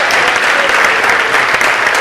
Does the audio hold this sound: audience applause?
yes